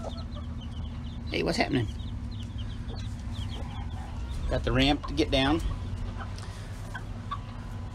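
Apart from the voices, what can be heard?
hen and her chicks clucking in a chicken coop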